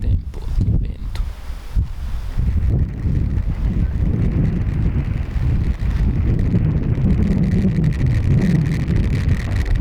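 Strong wind gusts buffet a microphone while cycling Iceland's Ring Road, a loud, continuous rumbling roar that surges and eases throughout.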